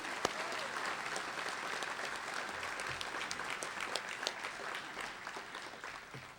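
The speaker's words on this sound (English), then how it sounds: "Let's give them a round of applause." Audience applause at the 2006 Chattahoochee Valley Sports Hall of Fame ceremony greets past inductees, a dense, steady wash of many hands clapping at moderate distance, sustained evenly throughout without talk.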